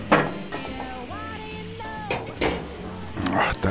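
Simmered shallots being added to boeuf bourguignon in a Dutch oven, loud clinks and scrapes of a utensil against the pot close up, with a voice talking between them.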